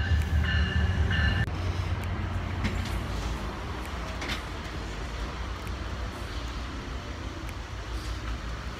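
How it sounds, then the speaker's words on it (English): A passenger train pulls into a station, a steady loud rumble of wheels and rail noise with a brief higher tone fading early, then continuous rolling roar without speech. "You guys, the train is here."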